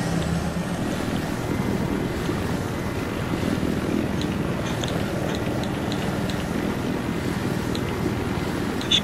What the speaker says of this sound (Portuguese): Mais uma vez com a merda do helicóptero.